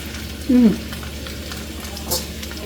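Jama jama leaves frying in oil in a pot, with a steady sizzle and brief stirring scrapes, a short voice sound near the start.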